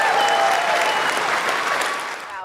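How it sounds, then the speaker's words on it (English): Crowd applause on the New York Stock Exchange floor, a dense, loud wash of many hands clapping that holds steady and then fades out at the end. "give yourselves a round of applause"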